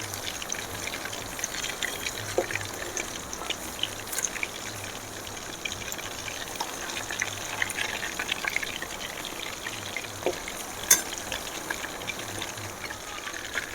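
Sankara fish pieces fry in oil as they are turned over, a soft, continuous bubbling sizzle with occasional light pops and clicks, close and fairly quiet, with no talking.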